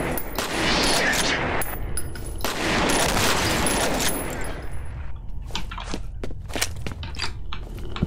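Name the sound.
new weapon firing in F.E.A.R. video game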